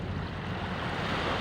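Steady roar of sea waves washing on a shore, broadband and continuous with wind mixed in, no voices present.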